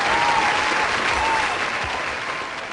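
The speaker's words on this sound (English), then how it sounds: "Let's give you a round of applause." A round of applause from an audience, steady and dense clapping that holds at a loud level and then tapers slightly toward the end.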